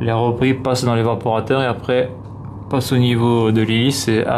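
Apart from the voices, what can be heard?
No distinct noise like a dog, phone or traffic.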